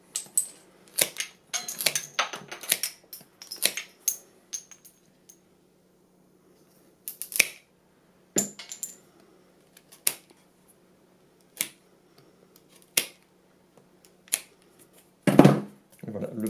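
Scissors or shears snipping the protruding wicker strands on the base of a woven basket, giving sharp, close clicks in quick irregular clusters, then sparser single snips separated by silence, with faint talk in places.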